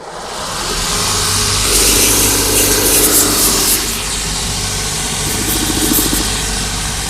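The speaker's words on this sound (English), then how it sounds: "we'll just work away at this on the smooth wheel until we get a beautiful smooth edge" A finishing machine's smooth wheel grinding and shaping the commando sole heel of a new Tricker's Stow boot, a loud steady whirring drone with rough abrasive hiss, close and continuous.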